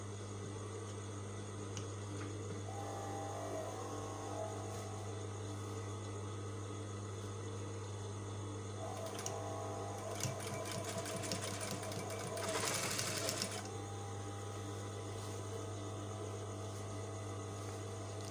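A sewing machine stitches a shirt collar close to the edge, its steady motor whir running throughout with short stitching bursts, and a brief louder rattling run near the end, quiet and close.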